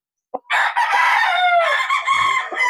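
A rooster brood cock on a Filipino backyard farm crows once, close and loud, in a drawn-out, wavering cry of about two seconds that follows a brief cluck, with no talking.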